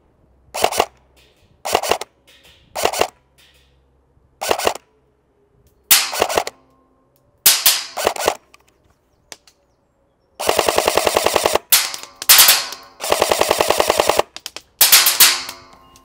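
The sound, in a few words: Delta Armory Freya airsoft gun firing BBs, hitting targets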